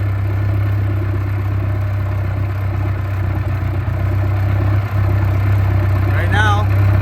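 A boat engine being winterized runs steadily with a low, even hum and light mechanical clatter, while a person speaks over it and a brief squeal rises near the end.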